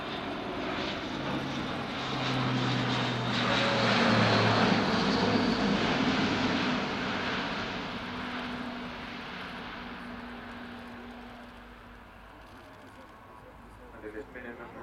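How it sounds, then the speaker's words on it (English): An Airbus A400M Atlas military transport, engines throttled back, descends through a tight turn at an air show, a broad roaring drone that swells then slowly fades with a lower propeller hum beneath. "The engine's been throttled back at this stage, and the aircraft is descending for doing a tight 360 cruise"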